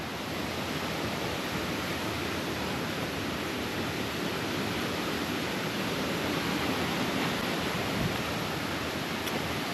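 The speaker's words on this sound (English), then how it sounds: "oh my god, there's a waterfall coming in front of me" Waterfall beside a hiking trail on the Bartram Trail, heard as a constant, dense rushing roar with no break, moderately loud and steady throughout.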